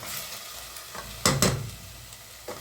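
Onions and green peppers sauteing in olive oil in a pan give a steady sizzle, with a couple of louder stirring scrapes in the middle and another near the end.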